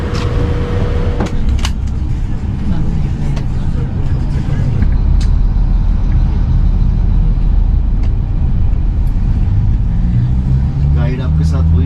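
A small tour minibus in Dubai driving along, a steady deep engine rumble and road noise heard from inside, with occasional clicks and knocks and people talking throughout.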